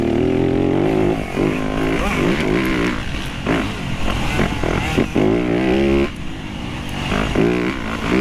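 Dirt bike engine during a hare scramble race, a loud continuous close-up roar that rises and falls as the throttle is worked, with several bikes nearby.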